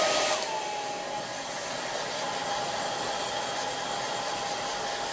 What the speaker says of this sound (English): I'm going to take a little bit of a hair dryer to it, just to make sure that